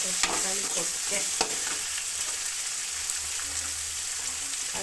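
Tomato frying in a pan crackles and sizzles steadily up close, with a few sharp clicks and taps from stirring near the start.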